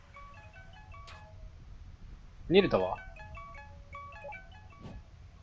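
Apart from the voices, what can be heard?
odd phone ringtone in video game To the Moon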